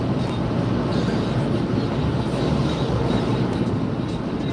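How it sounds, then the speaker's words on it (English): A train passes nearby with a dense, steady broadband roar that stays loud and even for the whole stretch, without distinct horn blasts or clear rail clatter. "Waiting to see which way the train was going, if it was coming overhead or already past me"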